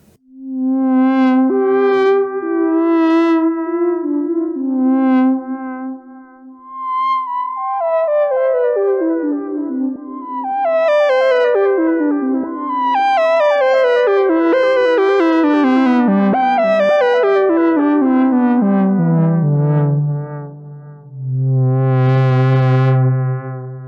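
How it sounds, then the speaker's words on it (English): Thereminvox patch on a Behringer 2600 synthesizer with vibrato, a loud wavering theremin-like lead gliding up and down in sweeping pitch slides and sustained warbling notes, played alone. "The next patch is the Thereminvox."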